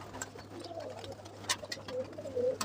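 A female pigeon gives a few soft, low coos, faint against a quiet background with scattered small knocks and rustles.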